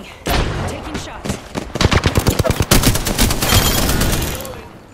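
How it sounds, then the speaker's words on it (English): Gunfire in the video game Apex Legends on PS4, loud close automatic bursts of rapid shots with short pauses, heavy and continuous through the middle. "They spotted me. I'm taking shots."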